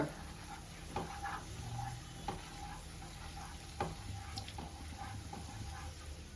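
Carrot and bottle gourd halwa made with milk being stirred in a pan, with soft sizzling underneath and a few distinct scraping knocks of the spoon against the pan, quiet and close.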